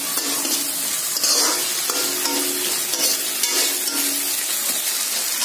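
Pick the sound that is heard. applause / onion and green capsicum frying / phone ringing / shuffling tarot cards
onion and green capsicum frying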